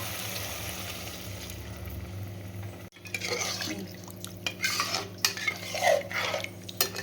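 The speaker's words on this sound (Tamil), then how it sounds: "ரெண்டு கிளாஸ் தண்ணி ஊற்றிருக்கோம்." Two glasses of water pour into a pot of soaked rice for jeera rice after a sharp clank, followed by stirring, scraping and light bubbling sounds close by.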